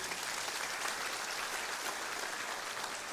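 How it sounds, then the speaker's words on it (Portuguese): A church congregation applauds in a steady, evenly sustained wash of clapping hands, moderately distant, with no talk over it. "Vamos dar uma salva de palmas a Deus por isso."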